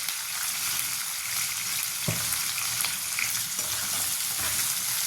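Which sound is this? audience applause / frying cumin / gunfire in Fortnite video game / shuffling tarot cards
frying cumin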